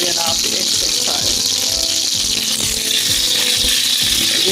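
Fish frying in hot oil gives a steady, dense sizzle that runs without a break throughout, with a voice talking over it now and then.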